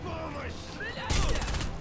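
Gunfire in the video game Sniper Elite V2 Remastered, a sudden loud burst of rapid shots in the second half, following quieter game sounds and faint in-game chatter.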